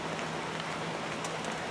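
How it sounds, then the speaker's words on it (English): Rain falls steadily outdoors in an even, broadband patter with a few brighter drop hits, no voices present. "I am going to sit out here in the rain"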